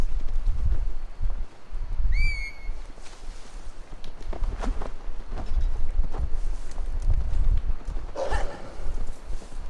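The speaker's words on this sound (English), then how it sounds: "Now to deliver Magni his horse." Horse hooves clip-clop in Assassin's Creed Valhalla, a steady walking rhythm of moderately loud steps over game ambience and wind, with a brief whistled call near the start.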